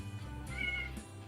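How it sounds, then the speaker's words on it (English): A cat gives a short, soft meow at a yarn-themed ladies' night gathering, faint beneath a steady hum of room noise. "Heard it meow."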